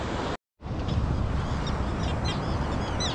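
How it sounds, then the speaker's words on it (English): Birds calling over a coastal bird colony, with repeated squawks and cries mixed into a steady wind-like rush, close and fairly loud, after a brief dropout near the start. "I'm getting attacked by birds. You hear that?"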